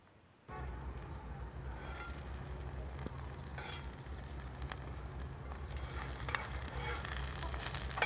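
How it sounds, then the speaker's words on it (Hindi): An egg sizzles steadily in ghee on a hot griddle. The frying starts abruptly after a brief quiet moment and holds a close, even crackle with small pops, with no voices. "अंडे को तवे पर डाल देंगे। अब थोड़ा सा घी डालेंगे।"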